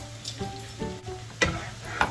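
Garlic frying in melted butter in a pan over low heat, a soft continuous sizzle with a few sharper clicks and spatters, close and fairly quiet, no voices.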